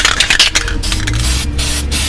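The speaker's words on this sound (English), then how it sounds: "I'm using the hammered Rust-Oleum black because it kind of covers rust pretty good." Hammered black Rust-Oleum spray paint hisses steadily from an aerosol can onto a truck part during an F250/F350 leveling kit install, a loud close continuous spray with brief pauses and short bursts.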